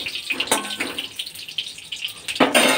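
Paneer fries in a pan, giving a hissing sizzle broken by a few sharp pops and bursts from water in the oil, close and fairly quiet.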